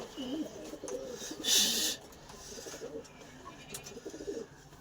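A small male pigeon coos softly in repeated low, throaty phrases, with a brief louder burst of noise partway through and a quiet background throughout.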